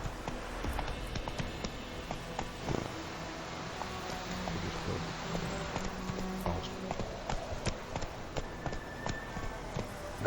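Hooves of Geralt's horse Roach in The Witcher 3 clop steadily and rhythmically at a walking-to-trotting pace, mid-distance, over a low game ambience with no talking.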